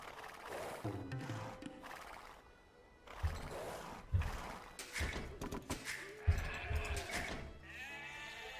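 Sheep bleating in the strategy game Age of Empires II, several short bleats scattered among game effects and clicks, with other animal-like calls and a busy mix of game sounds throughout.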